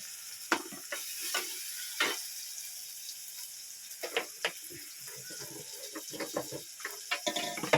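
Curry leaves fry in hot oil in a home kitchen, crackling and popping in irregular bursts over a steady sizzle, close by with occasional stirring scrapes.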